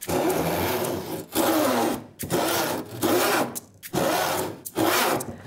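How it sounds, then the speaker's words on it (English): A hand saw cuts through wood in long rasping back-and-forth strokes, about five steady passes with brief pauses between them, close and loud with no talking. "Get a score going, and then you can start sawing, and don't rush it."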